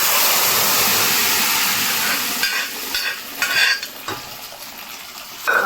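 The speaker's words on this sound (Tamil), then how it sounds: "நல்லா மிளகா வந்து இப்படி நல்லா ஃப்ரை ஆகிடுச்சுங்க" Chillies fry in hot oil and mashed green gram is stirred in. A loud, close sizzle hisses continuously at first, then gives way to intermittent scraping and clinking stirs against the pan, with no talking.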